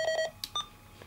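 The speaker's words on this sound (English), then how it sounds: "the initial problem with the radio, it beeps quietly" Two quick, quiet electronic beeps from a Uniden Bearcat UBC125XLT radio scanner at the start, followed by a few fainter chirps and blips, all quiet against a low background hum.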